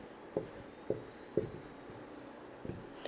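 Handwriting on paper during a lesson, with a few soft, separate pen or chalk strokes spaced out over a quiet background.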